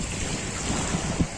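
Gentle sea surf at Altınkum beach in Enez, Edirne, a steady low wash of calm water mixed with wind rumble, with a slightly stronger wave surge near the end.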